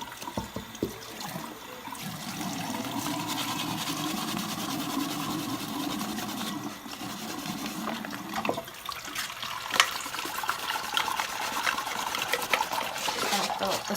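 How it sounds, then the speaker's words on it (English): Tap water runs steadily into a sink while a glitter tumbler cup and wet sandpaper are worked under the stream, a continuous splashing rush with occasional clunks and scrapes. "So I'm just going to do this under the water."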